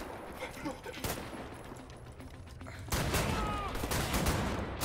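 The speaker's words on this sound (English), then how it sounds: "Oh, double shotguns!" Double shotguns firing in Wolfenstein: The New Order, heavy blasts that come in rapid succession and get denser and louder in the second half over a busy game soundscape, with a voice speaking along.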